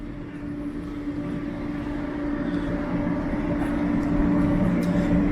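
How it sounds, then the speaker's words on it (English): Toronto subway train pulling into Davisville Station, heard from a nearby street on a rainy day: a steady low rumble and hum with a faint tonal whine, growing gradually louder as it arrives. "you can see a train pulling into Davisville Station."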